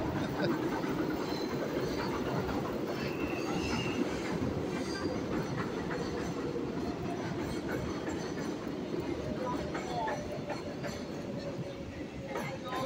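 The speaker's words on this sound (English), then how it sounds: "train action, train action." A train rumbles past close by in a New York City neighborhood near Yankee Stadium, on River Avenue in the Bronx. Its steady, loud clatter and wheel noise fill the whole stretch, with faint metallic squeals here and there.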